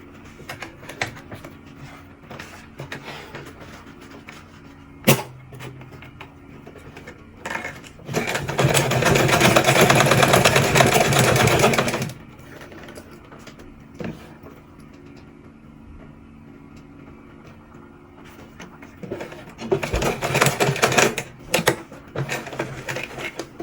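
An electric sewing machine stitches fabric for a padded turban, running in two bursts of rapid mechanical whirring separated by quieter handling, clicks and rustling.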